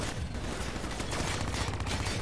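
Dense rapid gunfire in the video game Black Ops 3 while shooting at vats, a loud, continuous crackling barrage of shots with no pauses and no talking.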